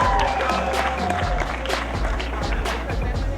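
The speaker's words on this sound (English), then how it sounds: "Come on, make some more noise for Mr." A crowd at the Kingston City Run 2013 prize ceremony applauds and cheers for a race finisher, a steady wash of clapping and voices that holds loud and unbroken throughout.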